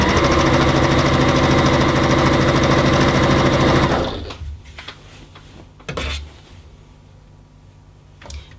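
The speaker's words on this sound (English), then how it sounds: "pop it under the machine and just take your normal seam allowance and sew those sides together" Sewing machine stitching the side seams of an infinity scarf at normal seam allowance, a loud steady close whir for about four seconds before stopping, followed by quieter handling noises and a brief knock.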